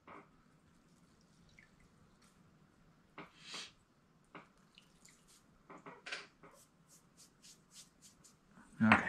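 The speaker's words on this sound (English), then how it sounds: "The more water I use, the more it washes off easier." Water running and dripping while glaze is washed off a raku-fired tiki ceramic centerpiece, with scattered splashes, trickles and small knocks over a quiet background, louder toward the end.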